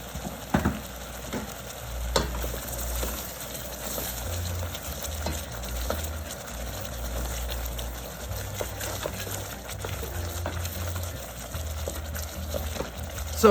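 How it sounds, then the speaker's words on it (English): Chicken meat for Jamaican patties cooks in a pot with a soft, continuous sizzle and bubbling, and occasional stirring clinks and knocks sound against it, fairly quiet and with no one talking. "I'm gonna start cook my chicken, my meat for my patty"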